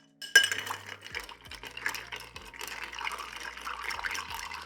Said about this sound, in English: Want to get a little of those ice shards in when you stir because you want the proper dilution.